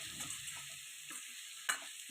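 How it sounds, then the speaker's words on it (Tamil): Onion and potato sizzle and fry in a pan while a utensil stirs and scrapes, with a soft clack near the end. "இது மாதிரி நல்லா வதக்கி விடுங்க."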